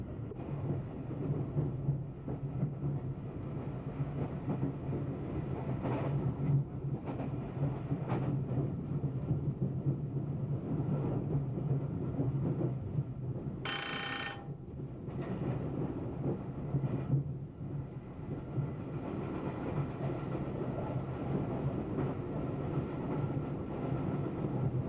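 An LT&S passenger train runs under power along steel rails, a steady low rumble and roar of wheels with rhythmic rail clicks and a brief high whistle-like squeal midway, continuing evenly without speech.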